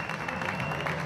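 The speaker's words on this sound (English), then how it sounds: "Give him a round of applause," Crowd applause at a Coventry dirt track unlimited banger racing meet greets a driver on the rostrum, with a brief, dense patter of clapping throughout.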